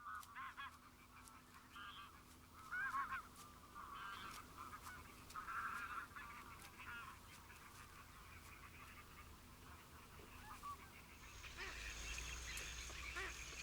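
Geese honk in Doñana marshland, quiet and distant, in scattered calls over a steady background hum that swells toward the end.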